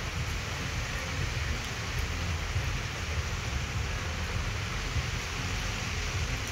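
Steady heavy rain pours on a goat farm, a continuous broad hiss with a deep rumbling undertone, close and unbroken, with no voices.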